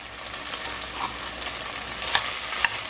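Onion and garlic frying in a pan with paprika, black pepper and chimichurri for charque carreteiro, a steady close sizzle with scraping stirs and a couple of sharper utensil clicks near the end.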